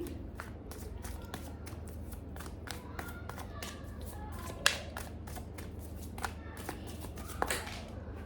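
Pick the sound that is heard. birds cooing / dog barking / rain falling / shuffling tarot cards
shuffling tarot cards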